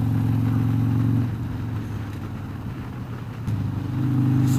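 Motorcycle engine idling and running steadily up close, a low droning hum that dips briefly then swells again, with no talk over it.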